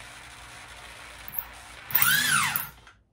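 A power drill boring into silicone whirs briefly, revving up and winding down for about a second after a quiet background hum.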